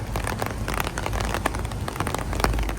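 Steady rain pours down outdoors, a dense even hiss of drops striking surfaces with scattered crackling patter and no voices.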